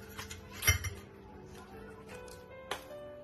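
A boiled fish head for chopped-chili fish head being plated onto a dish: quiet, close clinks of utensil against dish, one slightly louder knock followed by a few soft taps in a near-silent room.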